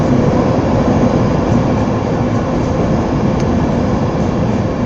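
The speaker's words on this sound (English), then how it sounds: "departing now is the cross-country service to Penzance from Aberdeen, which is the longest train journey in the UK" Cross-country passenger train departing Darlington station on the Aberdeen to Penzance service, a steady loud rumble of wheels and engine close by with no pause or voices.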